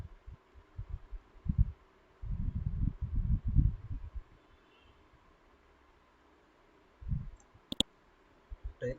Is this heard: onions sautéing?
no